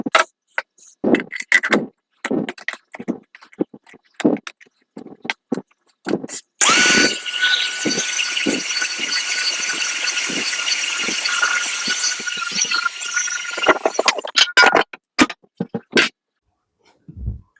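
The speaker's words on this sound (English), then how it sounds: "You cook the potatoes, dry it out, and then grind it up" A kitchen grinder runs steadily for several seconds, grinding dried cooked potatoes into flour. Short clattering knocks come before and after the loud continuous whirr.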